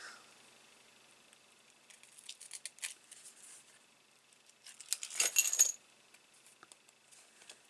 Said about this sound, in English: I'm going to cut a tiny little strand.